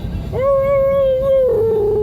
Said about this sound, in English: Keeping them entertained with YouTube videos of singing husky dogs.